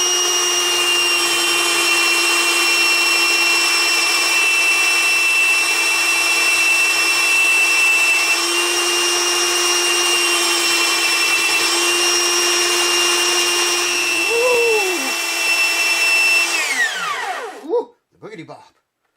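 Power tool grinding and melting down a plastic saddle on an Epiphone FT130 guitar, a loud steady high whine that holds for most of the clip, then winds down and stops near the end.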